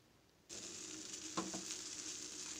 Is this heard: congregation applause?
no